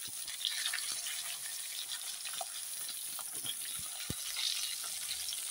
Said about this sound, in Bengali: এখন আমি এই একই তেলে বেগুনগুলো দিয়ে দিচ্ছি। বেগুনগুলো ভেজে তুলে নেবো,